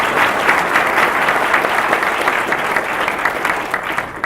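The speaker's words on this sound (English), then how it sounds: "Can we give them a round of applause?" Sustained audience applause fills the room at the close of a conference session, a dense steady clapping that holds at an even level for about four seconds with no voices over it.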